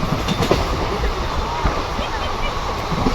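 Continuous roar of a train in motion, with occasional knocks and rattles, heard from inside among faint background voices.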